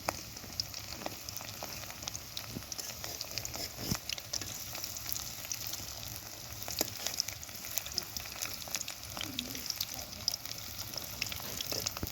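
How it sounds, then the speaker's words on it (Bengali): Mustard flower fritters (shorisha fuler bora) frying in oil in a pan, a continuous faint crackling sizzle with scattered small pops and occasional stirring or turning sounds, no one speaking. "আমার এটা এক পাশটা হয়ে গেছে, এখন আমি সবগুলোকে উল্টা দিব, উল্টা দিতেছি।"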